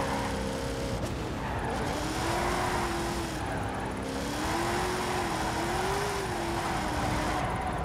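Car drifting on a steep banked track in Forza Horizon 5, a steady engine drone with a wavering pitch that rises and falls as the car slides, continuous and loud throughout.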